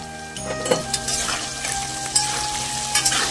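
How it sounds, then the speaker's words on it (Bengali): Potatoes frying in hot oil with a little salt and turmeric, a constant bubbling sizzle up close, broken by intermittent scrapes and light clinks of a utensil against the pan, with no talking. "আলুটা ভালো করে লাল লাল করে ভাজা হবে"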